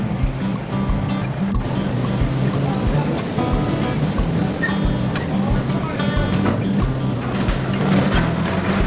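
A European midwater fishing trawler at sea gives off a constant heavy roar of engines mixed with rushing wind and breaking waves, loud and unbroken throughout.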